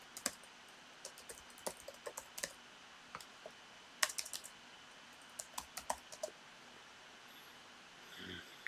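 Rapid keystrokes on a computer keyboard while an address is entered for employee registration in accounting software, irregular clicks in short bursts with pauses, close and fairly quiet, no talking.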